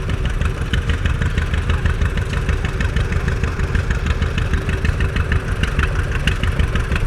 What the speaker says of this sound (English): And behind me you can hear people on tractors.